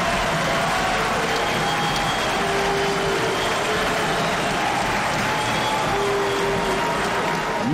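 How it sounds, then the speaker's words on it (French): A large crowd gives a standing ovation after a presidential speech to Congress, applauding steadily and loudly, a dense continuous roar of clapping that doesn't let up. "un standing ovation, des applaudissements pour ce discours plein d'espoir"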